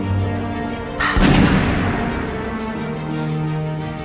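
A single loud warning gunshot in a costume drama, a sharp blast about a second in that rolls off into a long decaying rumble, set against background music with no speech.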